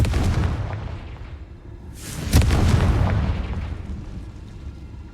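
A Confringo blasting curse goes off in Hogwarts Legacy as a loud, close explosion with a deep rumbling boom, a second sharp burst midway, and a roar that fades slowly.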